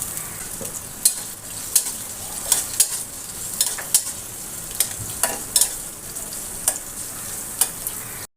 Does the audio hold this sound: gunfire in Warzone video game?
no